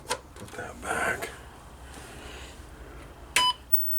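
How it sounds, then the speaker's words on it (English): A single short electronic beep from the terminal board of a 39-year-old H/Z-89 computer under repair, one brief tone late in a quiet stretch after soft voices. "Just the 1 beep from the terminal board."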